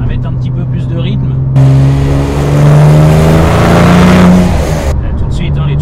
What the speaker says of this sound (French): les turbos, ça souffle, ça pousse.